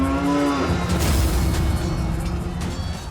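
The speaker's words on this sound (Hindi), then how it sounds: "ये तो मवेशी को ले आ रहे हैं।" Cattle being herded in, a single low drawn-out moo at the start followed by a rumbling, roaring mix of crowd and movement noise, loud and close.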